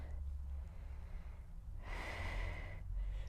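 A person doing a mobility stretch breathes out in one long, soft, airy exhale at close range, with quiet breathing before and after and no talk.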